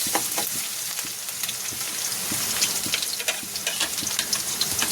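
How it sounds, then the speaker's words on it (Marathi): Garlic frying in oil over a low flame for Schezwan chutney gives a constant soft crackling sizzle with faint ticks of a spoon, close and steady with no voices. "आपण आता इथे लसूण टाकत आहोत गॅस आपली कमी आहे कमी आचेवर आपल्याला मंद आचेवर आपल्याला हे लसूण परतून घ्यायचं आहे"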